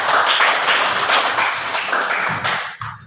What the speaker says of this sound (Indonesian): Kita tepuk tangan dulu buat tokoh.